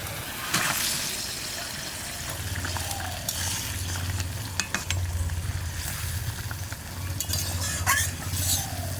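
Spiced fish curry simmering in a pan, a steady bubbling sizzle with soft stirring scrapes and occasional clinks, moderately close and continuous with no talk.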